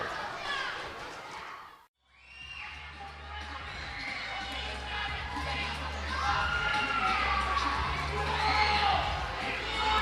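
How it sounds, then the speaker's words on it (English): A wrestling show crowd shouts and cheers continuously, a dense mass of voices that cuts out briefly near the two-second mark, then builds back louder and holds to the end. "You may be able to hear the shouting in the background."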